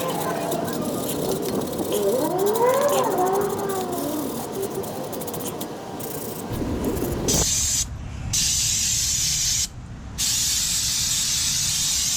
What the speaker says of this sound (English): I'm going to spray it with some degreaser first.